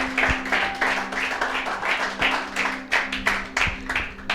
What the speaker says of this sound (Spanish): Vamos a darle un aplauso a Dominic